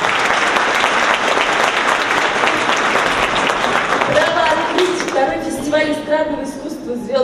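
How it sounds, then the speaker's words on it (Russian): Festival audience in a hall applauds steadily and loudly, a dense continuous clapping that fades over the last seconds as a voice speaks over it. "Ваши аплодисменты!"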